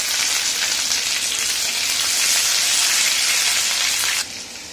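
Onions frying in a pan with ginger-garlic paste about to join them, a steady loud sizzle that runs evenly and then drops to a quieter hiss near the end, with no voices.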